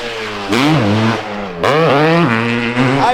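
Travis Pastrana's 500cc two-stroke dirt bike, the RMZilla with yellow wheels, revs hard twice, its loud, close engine note climbing and falling in sharp bursts with a rapid throttle blip near the end.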